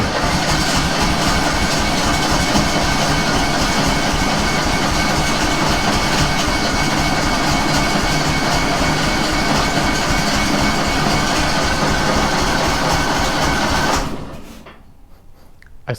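A Kohler 18 horsepower engine running on only one cylinder with the choke on and throttle about three-quarters open, a loud steady rough drone with rapid chugging pulses, close up, cutting off abruptly near the end.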